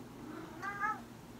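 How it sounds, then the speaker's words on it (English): A house cat lets out a single soft meow, fairly faint and brief, over a low steady room hum. "Sorry for my cat."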